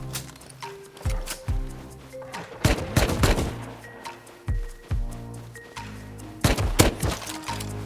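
Gunfire in a snowy survival video game, repeated punchy shots and short bursts spread across the clip at varied distances, with occasional heavy thuds and no talking.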